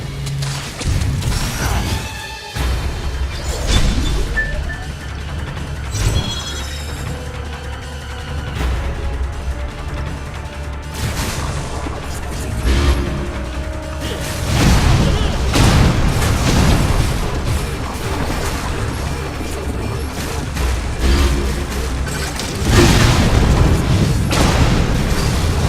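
Missile fire and explosions in the Metroid Other M video game: a dense, loud barrage of booming blasts, whooshes and crashes layered over a continuous low rumble of battle.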